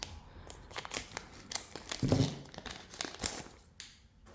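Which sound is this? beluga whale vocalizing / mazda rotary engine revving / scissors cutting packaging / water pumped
scissors cutting packaging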